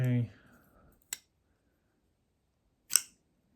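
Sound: clicking of a folding knife mechanism

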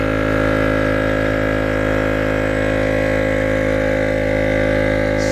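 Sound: EP AUTO tire air pump inflating a car tire

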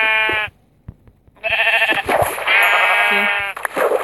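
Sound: sheep bleating in the video game Minecraft

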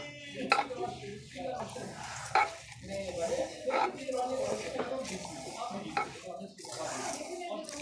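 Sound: mixing spices clove, star anise, cinnamon in pot

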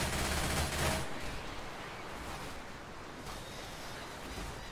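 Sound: gunfire shooting zombies in Left 4 Dead 2 video game

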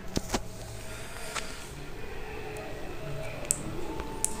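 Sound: car driving in a Simpsons video game

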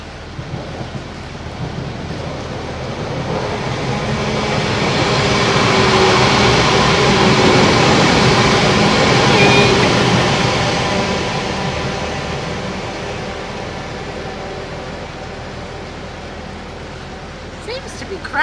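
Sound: train passing near a narrowboat

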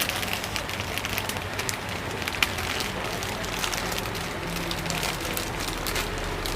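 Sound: rain falling outside

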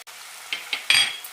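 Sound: spice powders being sautéed in a pan

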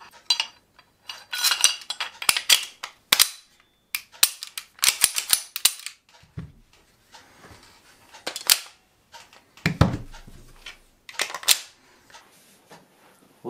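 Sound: reassembling a Grand Power pistol, slide and spring clicks

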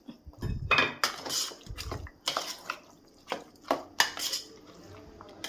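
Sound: stirring curd rice in a steel vessel

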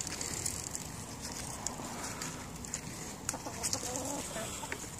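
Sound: chickens clucking

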